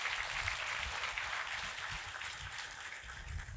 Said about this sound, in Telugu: ఒకసారి ఆవిడ గట్టి క్లాప్స్ అండి